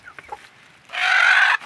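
A hen gives a loud, close, drawn-out squawking cluck as she is set down on a clutch of eggs for hatching, preceded by a few softer clucks.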